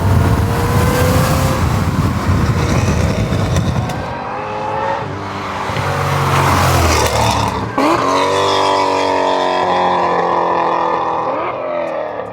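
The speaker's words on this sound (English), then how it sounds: "He's getting them good downshifts in" A car engine revs and downshifts while driving, loud and close throughout, its pitch rising and falling through several gear changes.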